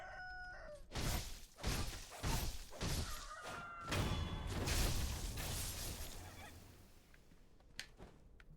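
Roosters in the video game Sekiro crow in a brief rising call at the start, followed by a run of heavy thuds and crashing impacts as the fight continues, fading to quieter rustling.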